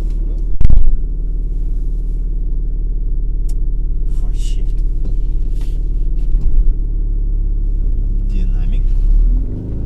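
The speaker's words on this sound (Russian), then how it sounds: "То есть что-то тут очень сильно слышно двигатель в салоне." Engine noise from a Lexus GS300 fills the cabin while driving, a constant loud low drone with a sharp knock near the start and some voices over it.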